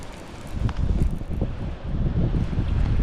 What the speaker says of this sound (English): with the wind blowing